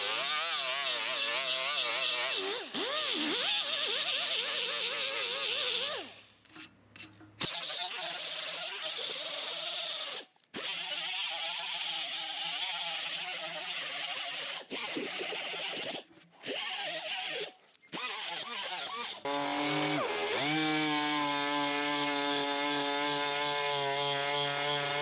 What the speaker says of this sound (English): I used our little 90-degree air grinder with those little square cutoff ones